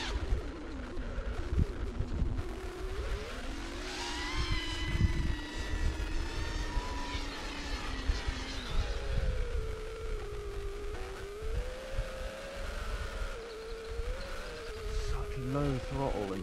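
A Nazgul FPV drone flies low, its motors whining in a high, buzzing pitch that rises and falls with throttle changes, loud and continuous throughout.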